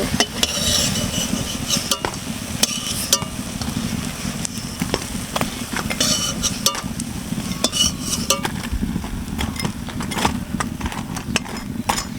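Crab fritters are lifted out of a frying pan. A metal utensil clinks and scrapes against the pan over and over, with a faint, continuous sizzle of hot oil underneath and no talking.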